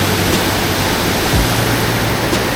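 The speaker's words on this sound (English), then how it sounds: "This is up top, above the falls." A waterfall in the Pacific Northwest backcountry, heard from above the falls, roars as steady, loud broadband rushing water with no pauses and no voices.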